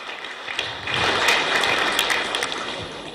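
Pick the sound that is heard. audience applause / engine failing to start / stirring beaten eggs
audience applause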